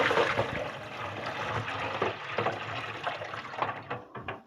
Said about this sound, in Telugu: ఇంకా ఇందులో ఉన్న ఎక్స్ట్రా వాటర్ని అయితే ముందు వంపేద్దాము